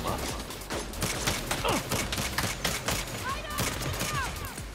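Pistol and shotgun gunfire from the video game Saints Row cracks out in rapid bursts amid loud game effects, with a voice talking over it.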